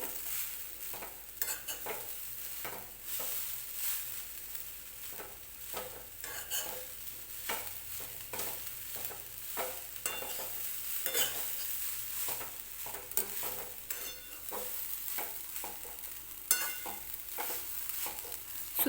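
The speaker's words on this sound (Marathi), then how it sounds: "खोबरं आपल्याला तुपामध्ये परतून घ्यायचं आहे" A utensil scrapes and stirs steadily through grated coconut roasting in ghee in a pan, with repeated soft scraping strokes over a constant low frying hiss.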